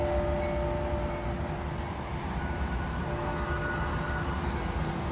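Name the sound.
DART light rail train approaching in Dallas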